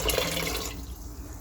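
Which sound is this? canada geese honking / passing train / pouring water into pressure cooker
pouring water into pressure cooker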